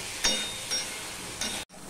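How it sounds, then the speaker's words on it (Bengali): Pointed gourd (potol) pieces fry in oil in a kadai with a steady close sizzle, broken by a few brief stirring scrapes and clinks, with no talk. "পটলটাকে আমি ভালো করে ভেজে নেব"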